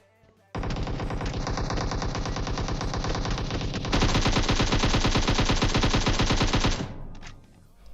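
Sustained automatic gunfire from the Free Fire mobile game, a loud, continuous rapid burst of shots lasting several seconds that intensifies midway before cutting off abruptly.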